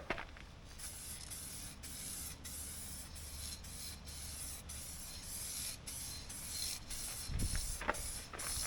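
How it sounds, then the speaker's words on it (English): Aerosol spray can applying custom-mixed paint to the rocker panels of a Ford Ranger pickup, a steady close hiss broken by brief pauses between passes, running almost continuously with no talking. "mixed up at the paint store and put in a spray can, and we'll see how it works out"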